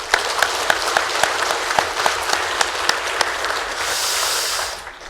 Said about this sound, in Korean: 또 그 후손들에게 또 감사의 박수 한번 올립니다.